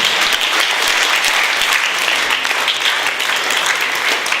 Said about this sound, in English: can we give them all a massive round of applause?